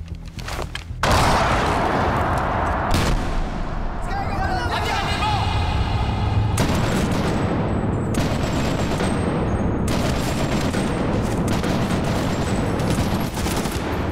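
Rapid gunfire and heavy booming blasts in the Medal of Honor Warfighter video game, loud and continuous with layered explosions and dense combat din, while players talk over it.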